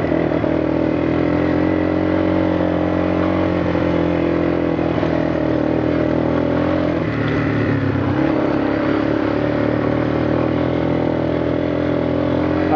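A 4-wheeler ATV engine runs steadily at close range for the whole stretch, with a brief dip and unevenness partway through as it sputters and bogs before settling back into its drone.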